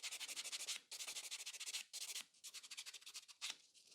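A 100 grit file works over a fiber gel sculpted nail in quick, rhythmic back-and-forth strokes, a soft close scratching in bursts with brief pauses.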